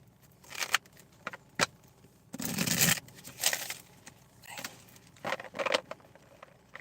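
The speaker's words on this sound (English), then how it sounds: "the way I just shuffled them cards" Deck of playing cards being shuffled by hand in a few quick riffling bursts, close and fairly quiet, with short rustling pauses between them.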